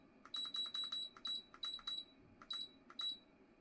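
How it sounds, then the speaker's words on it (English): High electronic beeps from a Vortex Air Pro Plus air purifier setting its timer, several short ones in quick succession and then single beeps, clear against a quiet background. "That beeping may be annoying to some."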